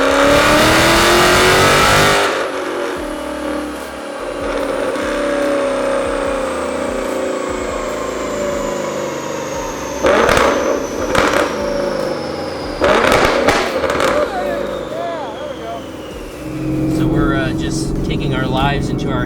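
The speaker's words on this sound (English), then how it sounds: "Taking our lives into our hands and driving Colt's Mustang in the snow" A 2014 Ford Mustang GT Track Pack driven on snow: a loud, steady engine drone with a rising whine that swells and falls through the run, broken by a few sharp bumps and thumps.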